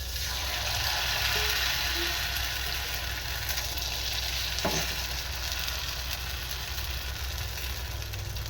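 Wheat rava dosa sizzling steadily in a pan, a continuous dense frying hiss with faint scraping, no voices.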